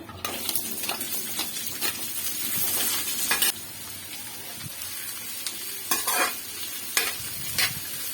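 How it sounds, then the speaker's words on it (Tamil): Onions frying in hot oil in a pan for Chettinad chicken gravy, a constant close sizzle broken by regular scraping stirs and occasional sharp clinks of a spoon. "வெங்காயத்தை நல்லா வதக்கிடுங்க"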